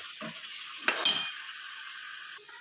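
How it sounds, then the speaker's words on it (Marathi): Masala sizzling and frying in oil in a pan while it is stirred for egg keema, a steady close hiss with a couple of sharp scraping clinks of the spoon partway through. "चांगले 2-3 मिनटं परतल्यानंतर मस्त तेल सुटेपर्यंत मसाला परतून घ्यायचा."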